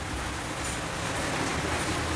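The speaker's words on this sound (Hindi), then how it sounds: "फिर भी अभी भी बरसते जा रही है, बरसते जा रही है" Heavy monsoon rain pours down in Mumbai as a dense, steady hiss of falling water, moderately faint and unbroken, with no one speaking.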